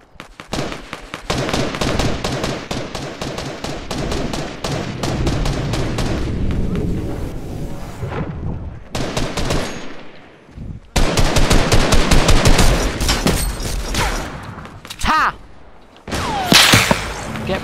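Infantry rifle gunfire in Fortnite, dense rapid bursts of shots close and loud, broken by brief pauses and a few sharp isolated cracks, with voices talking faintly underneath.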